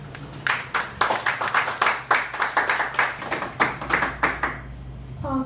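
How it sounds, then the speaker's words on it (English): Audience clapping after a poem at a poetry reading in a living room, a modest crowd of hands beating in a quick, uneven patter for several seconds before fading out. "Pause for the clap that time"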